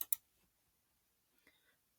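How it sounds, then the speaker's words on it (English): Two sharp mouse clicks open the clip while selecting System Restore in Windows 10, with a fainter soft click near the end, otherwise quiet. "they're going to click on this system restore"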